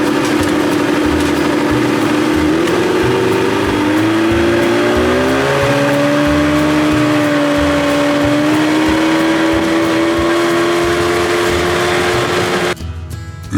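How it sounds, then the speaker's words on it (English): A 1987 Johnson 40 hp outboard motor runs steadily and loud throughout, its engine tone slowly rising and shifting, then cutting off abruptly near the end. "It's this old outboard, baby."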